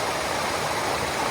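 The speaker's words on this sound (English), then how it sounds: "This is Eliza Creek." A creek on the Appalachian Trail rushes steadily in a continuous broadband wash of flowing water, close and even throughout with no voices.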